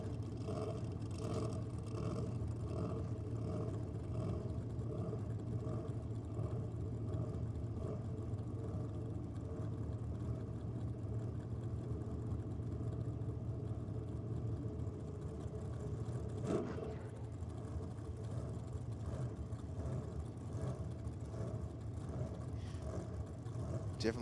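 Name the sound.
supercharged Holden Gemini drag car engine at dragway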